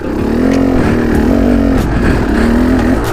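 Motorcycle engine picked up by a GoPro Hero 5's internal mic while riding, a loud steady droning hum with slight pitch wavering, close and continuous throughout.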